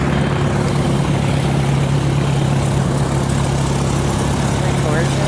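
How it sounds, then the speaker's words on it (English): A charter propeller plane's engine idles close by, a steady low drone with a strong hum that holds evenly for several seconds over noisy background ambience. "Here's a charter plane."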